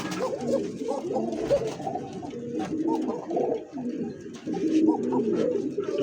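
Tiger kokka pigeons coo over and over at close range, a steady throaty burbling that fills the whole stretch with little pause.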